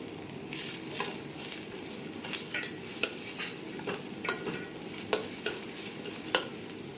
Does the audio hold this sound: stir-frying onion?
yes